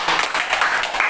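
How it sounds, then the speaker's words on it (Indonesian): A short burst of people clapping and applauding together, dense and fairly loud, lasting only a moment at the end of an Indonesian talk show segment. "tepuk tangan."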